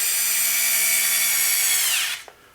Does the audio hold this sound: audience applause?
no